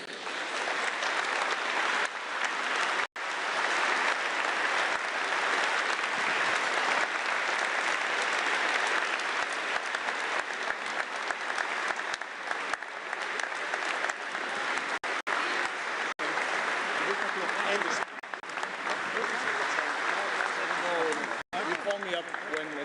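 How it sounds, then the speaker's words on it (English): A large hall at an EU leaders' summit breaks into sustained applause welcoming German Chancellor Merz, a broad continuous clapping wash that holds for over twenty seconds with brief dropouts, while voices murmur underneath. "welcome the Bundeskanzler of Germany, Mr. Merz, with a warm applause, please."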